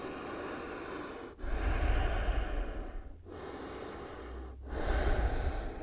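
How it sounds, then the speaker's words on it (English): Deep, slow breaths in child's pose during a vinyasa yoga session, with two long airy exhales separated by short pauses, close and fairly soft. "Take a few deep, full breaths here."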